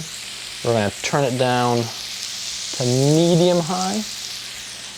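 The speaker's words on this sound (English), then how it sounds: "that's sizzling" Meat sizzles steadily in a hot pan on a stove set to medium-high, a constant close frying hiss running beneath a man's speech throughout.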